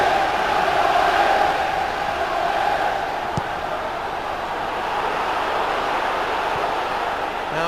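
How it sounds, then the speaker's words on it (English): Aston Villa supporters fill a football stadium with a steady, distant roar of crowd noise that holds at a fairly even level, with one brief sharp knock midway. "Listen to the Villa crowd."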